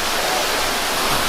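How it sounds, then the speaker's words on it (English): A waterfall on a hiking trail among gardens in Sa Pa, Vietnam, roars as a steady, loud, broadband rush of falling water, close and continuous with no voices. "There's another waterfall behind me."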